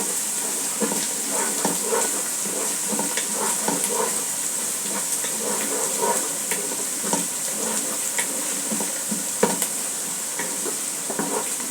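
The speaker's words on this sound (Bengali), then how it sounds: "পেঁয়াজটা ভাজা হয়ে গেছে মোটামুটি।" Chopped onions frying in a pan for bhuna khichuri, making a continuous close sizzle and hiss with frequent small scrapes and clicks of stirring throughout.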